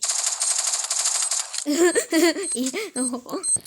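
Rapid automatic gunfire rattles in the Free Fire game for about a second and a half, then stops as a person starts talking excitedly.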